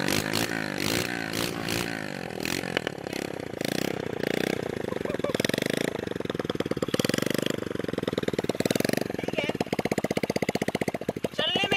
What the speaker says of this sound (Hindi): आवाज जो है वो बाइक की कैसी होगी, बट बट बट बट करने लग गई, क्योंकि साइलेंसर नहीं है।